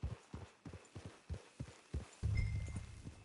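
Horse hooves in Red Dead 2 Online clip-clopping at a steady walking rhythm, close and distinct, about eight even beats before a low rumbling noise takes over near the end.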